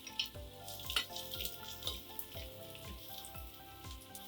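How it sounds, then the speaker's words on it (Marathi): Garlic and onion sauté in a hot pan, giving a steady close crackling sizzle with regular soft clacks of stirring, and no voices over it. "लसूण 1 मिनिट परतून घ्या"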